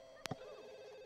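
A telephone in The Sims 2 video game gives a short electronic ring, two quick bright bursts over a steady tonal game background, fairly quiet and without talk.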